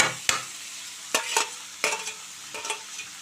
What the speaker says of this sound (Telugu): కొంచెం ఫ్లేమ్ కొంచెం పెద్దగా పెట్టుకొని ఇవి మనం కలుపుతూ ఉండాలండి